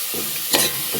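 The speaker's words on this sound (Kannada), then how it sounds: "ನೀರುಳ್ಳಿ ಎಡ್ಡೆ ಫ್ರೈ ಆವಡ" Chopped onions fry in a pan for ghee rice, giving a steady, close sizzle with a few brief stirring scrapes and no talking.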